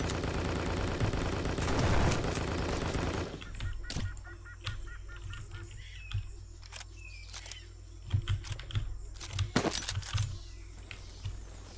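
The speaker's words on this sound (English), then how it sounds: "I heard gunshots over here." Gunfire in the video game Strike Force Heroes: a dense loud burst of game sound at first, then sharp scattered shots cracking singly and in short clusters over quieter game audio.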